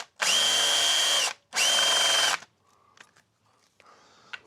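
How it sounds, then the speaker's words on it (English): A power drill with a tapered bit cleans the top of a bolt thread on an 80 engine, giving two loud whirring bursts about a second each, followed by faint clinks and handling noises. "I'm just gonna use like a tapered bit on my drill just to clean the top"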